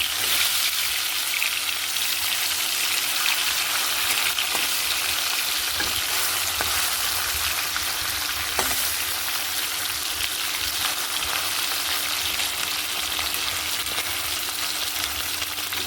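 Fish fry in hot oil in a pan with a loud, continuous crackling sizzle, broken now and then by a brief click or tap from the utensil, and no voices.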